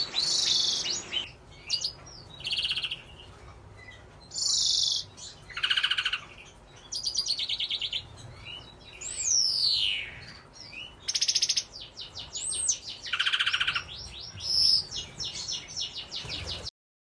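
Many small birds chirp and trill continuously in an indoor aviary bird room, bright overlapping calls and whistles filling the space with no pauses.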